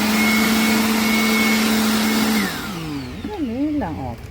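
An electric vacuum cleaner, a combined blower and vacuum unit, whines loudly and steadily up close, then winds down as it shuts off, with a voice speaking over the fading motor.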